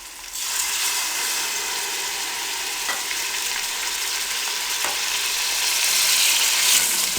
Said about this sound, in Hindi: अब इसमें हम सब्ज़ मिर्च और लहसुन का पेस्ट डाल देंगे।